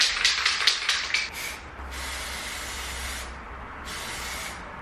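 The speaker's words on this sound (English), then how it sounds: "I'm just trying to spray paint a chair" A chair gets spray painted on a balcony: a can rattles in several quick shakes, then long steady hissing bursts of spray, close and loud, with a short pause between them.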